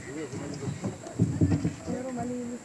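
Hooves clip-clop as a horse is ridden in Barangay Daraitan, a rhythmic run of dull thuds heard close by beneath people talking.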